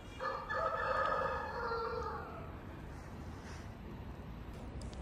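A rooster crows with a long, loud call in the first couple of seconds, heard outdoors beneath an abandoned building at a quiet rural scenic spot with a Dong-style drum tower, followed by steady ambient background.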